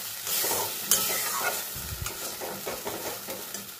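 Boal fish curry masala being stir-fried in a pan over a low flame, with soft sizzling under repeated scraping and stirring strokes of a spatula, close and moderately loud, with no talking.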